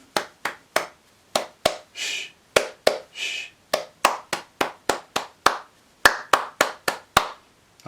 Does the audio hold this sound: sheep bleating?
no